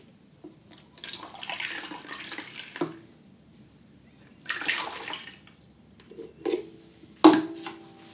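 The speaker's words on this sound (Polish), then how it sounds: "Dolejmy może jeszcze więcej wody." Water is poured into an ukulele in a few separate bursts, gurgling and splashing close up, with a sharper knock near the end and quiet gaps between pours.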